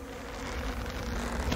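Bees buzz in a Winnie the Pooh cartoon bee chase, a loud, dense, continuous droning swarm that fills the short moment without any talk.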